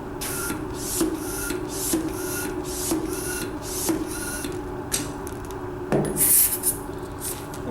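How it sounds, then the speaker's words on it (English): A red Qualitex hand pump inflates a 260 balloon with five strokes, each a regular rhythmic whooshing push with a faint mechanical squeak, close and alone, followed by a brief squeaky rubbing at the end. "You're going to inflate the 260 balloon with 5 pumps."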